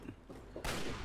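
Combat shotgun fire in Fallout 3, a muffled burst that gives way abruptly to a loud, sustained blast of gunfire lasting to the end of the short moment.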